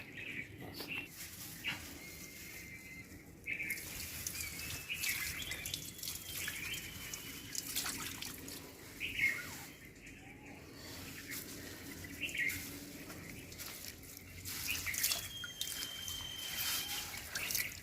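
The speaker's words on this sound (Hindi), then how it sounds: "ये जस्ट एक सादा ताज़ा पानी में इसको हम धो रहे हैं ताकि इसकी जो मट्टी मुट्टी है वो साफ़ हो जाए।" Freshly harvested lemongrass is rinsed in plain fresh water, giving soft intermittent splashes, drips and trickles at close range, with faint bird calls in the outdoor background.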